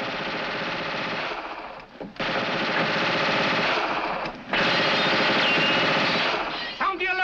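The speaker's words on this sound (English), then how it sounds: "Sergeant, investigate that gunfire." Machine gun fire from a 1950 Foreign Legion comedy film crackles in long, dense bursts separated by brief pauses, loud and close, with a clatter at the end.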